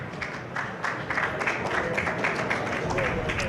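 Brief scattered applause from reporters at a New Orleans Saints NFC title postgame press conference, a light patter of claps mixed with room noise and voices.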